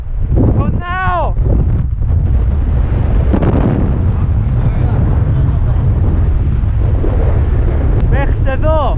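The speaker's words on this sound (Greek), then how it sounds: "Το χιόνι το παίρνει ο άνεμος και το πετάει στα μούτρα μου." A strong mountain wind blasts snow across a high slope of Mount Olympus, roaring and buffeting the microphone continuously, with brief vocal sounds from the climber breaking through.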